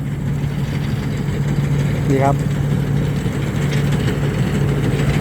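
A combine harvester from Chainat runs in a rice field with its engine under no strain, a loud, steady, close mechanical drone that continues throughout while someone talks over it.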